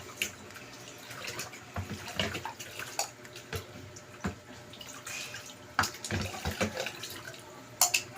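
Dishes being rinsed under running tap water at a sink, with splashing, trickling and intermittent clinks of plates, fairly quiet and close, with no talking.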